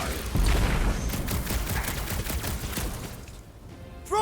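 Rapid bursts of gunfire and impacts crackle through a busy combat scene in the Guardians of the Galaxy video game, sharp repeated shots layered over a rumbling background.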